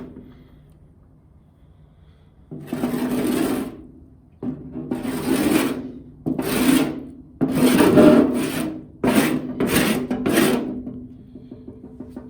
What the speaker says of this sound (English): This should just scrape right off.